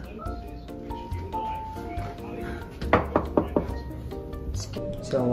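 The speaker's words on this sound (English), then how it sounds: "Knock." A quick series of four or five sharp knocks on a door, loud and close, following a stretch of indoor chatter and background tones.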